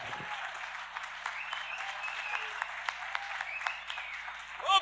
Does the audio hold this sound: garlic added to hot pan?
no